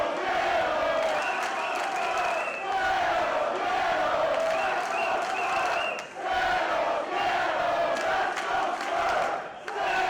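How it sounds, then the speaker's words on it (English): Wrestling arena crowd at a PCW ULTRA show cheering and shouting in a continuous loud roar, with chants rising and falling over ten seconds and brief dips in volume. "The crowd here, the faithful, certainly fired up as well."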